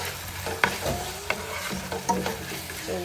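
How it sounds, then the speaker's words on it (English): Seasoning is mixed into short ribs in a pan, with close scraping stir strokes and a few clinks of utensil on cookware over a light sizzle and no talking. "a little bit of seasoning, just a little bit, and just mix everything together"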